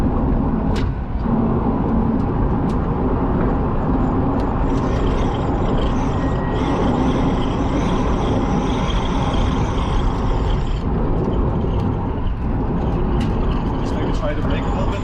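The Rimac C2 electric hypercar, rated at 1,888 hp, gives a steady, loud rolling roar of road and wind noise with a faint high electric whine. It runs continuously under the voices of people talking inside the car.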